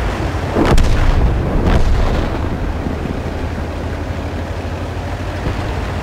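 Tank guns fire in World of Tanks, two heavy booming cannon shots about a second apart, close and loud, each leaving a low rolling rumble that fades under steady engine and battle ambience.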